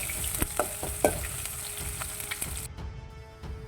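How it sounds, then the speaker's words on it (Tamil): Mustard seeds, urad dal and onion sizzling in hot oil, a close crackling fry with repeated sharp spattering pops, quieting to a softer hiss near the end. "உளுந்து, வெங்காயம் எல்லாம் தாளித்து"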